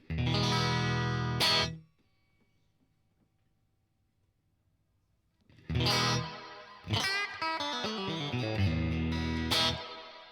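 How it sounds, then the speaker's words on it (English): Distorted electric guitar chords ring out through a UAFX Golden Reverberator plate reverb pedal, the first burst cutting off into near silence before more strummed chords and picked notes return with a lingering tail. "Turn the reverb off and go to the UADFX Golden Reverberator."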